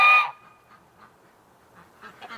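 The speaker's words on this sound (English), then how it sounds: "the ducks keep quacking at them" Ducks kept in a barn give one loud honking quack up close, followed by faint, scattered quieter calls in the background.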